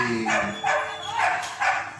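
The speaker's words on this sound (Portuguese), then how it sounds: "Não é hora de latir do cachorro" A dog barks in four evenly spaced bursts, moderately loud and close, with a faint background voice.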